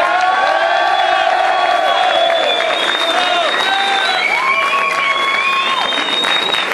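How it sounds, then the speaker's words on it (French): Sustained applause from an audience gathered for a celebration in Béssières, steady loud clapping with cheering and whoops rising over it, a few voices calling out throughout. "J'aimerais que vous fassiez un tonnerre d'applaudissements pour Isabelle et Eric, s'il vous plaît."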